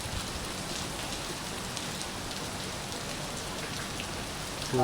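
Heavy rain falls steadily in Goa, a thick unbroken hiss of drops with no voices, holding at an even level throughout.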